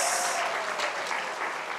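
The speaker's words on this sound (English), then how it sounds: "Let's give some thunderous applause." Loud, sustained applause from an audience at a State House speech event, steady dense clapping throughout with no talking.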